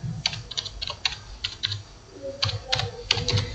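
Quick bursts of computer keyboard typing into a search bar, close and moderately loud, separated by a short pause, with no speech.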